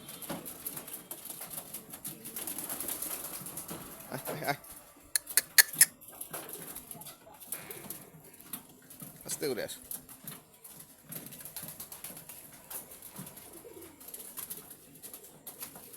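Soft pigeon coos and bird rustling in an enclosed space, mostly faint, with a person talking quietly over them and a few sharp ticks.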